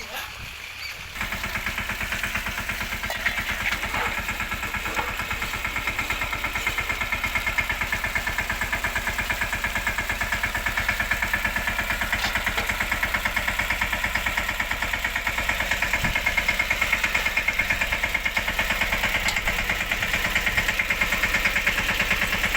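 A black tractor's engine idles with a steady rumbling drone after a brief quieter start, running continuously and fairly loud while voices talk over it.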